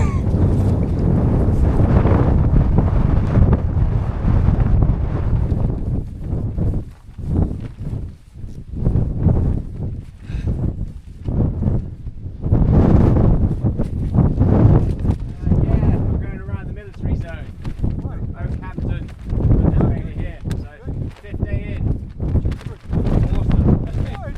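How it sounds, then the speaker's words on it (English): Strong gusty wind on open Dartmoor moorland buffets the microphone in loud, roaring surges that rise and fall continuously throughout. "the wind is coming from the west"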